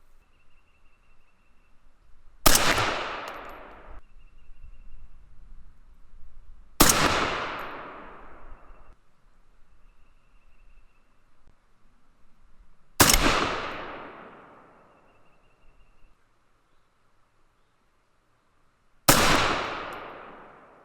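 Four suppressed 6mm ARC rifle shots fired with light bullets, each a sharp loud crack with a decaying tail, spaced several seconds apart over quiet outdoor background.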